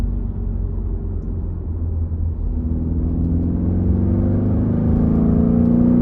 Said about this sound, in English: So that's a downshift into third.